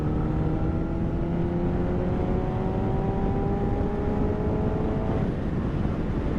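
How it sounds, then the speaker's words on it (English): A 2010 Honda CBR1000RR motorcycle accelerates on the road as the throttle opens, its engine note climbing steadily under strong, constant wind rush with no talk. "I'm just going to start opening the throttle a little bit."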